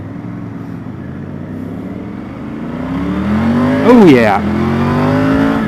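Triumph Tiger 900 Rally three-cylinder motorcycle engine revving while riding, a smooth rising drone that climbs, sweeps sharply up and down in one quick blip, then settles, close by with a rider's brief voice.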